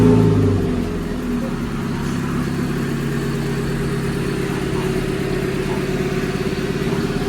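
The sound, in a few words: motorcycle revving with stainless drag pipe exhaust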